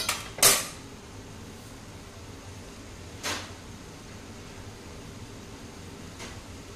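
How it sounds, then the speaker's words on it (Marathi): A metal lid is set on a pan resting on a tawa of vegetable pizza toppings, making one sharp clank near the start and a softer knock a few seconds later against a low steady hum. "हे आता आपण याच्यावर झाकण ठेवून घेऊया"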